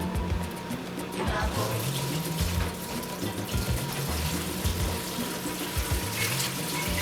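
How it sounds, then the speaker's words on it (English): Cooled, room-temperature brine mix poured into a raw Thanksgiving turkey, a steady running splash of liquid close by, continuous for several seconds with slight gurgling variations. "And I'm going to pour that into the bird."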